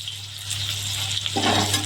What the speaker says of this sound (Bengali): পেঁয়াজ ভালো করে ভেজে নেব